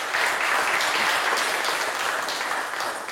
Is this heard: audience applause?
yes